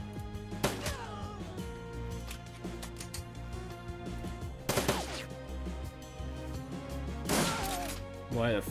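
Gunshots in the Shadowrun video game crack out in a few sharp, loud isolated bursts over a sustained musical drone, spaced several seconds apart.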